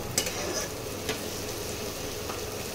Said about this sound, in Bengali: একটু ভাজা ভাজা হোক, তারপরে অন্য মশলাগুলো দেব।